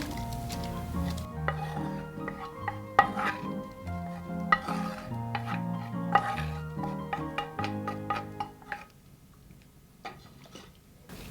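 Soft cooked pumpkin goes into a pot of vegetable broth for pumpkin soup, with scattered close clinks, scrapes and soft plops of spoon against pot over steady background music.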